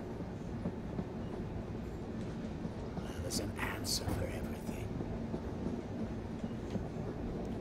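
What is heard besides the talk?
train rolling along the rails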